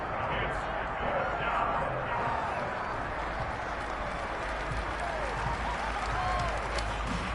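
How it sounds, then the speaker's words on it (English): A stadium crowd at a Jets American football game applauds and cheers continuously for the defense, a dense roar of clapping filling the whole stretch. "How about some applause for the defense there?"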